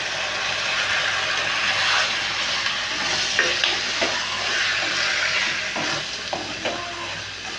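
Soybean curry sizzles and fries steadily in a pan after a splash of black tea goes in, a loud continuous hiss with occasional stirring scrapes throughout.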